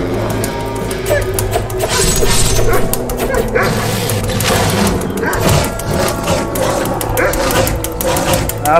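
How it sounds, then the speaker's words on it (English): Dogs bark and yip repeatedly in the Shank video game played on an arcade cabinet, loud and layered over game music, crashes and effects, with a voice talking at times. "I fear the dogs more than any other bad element."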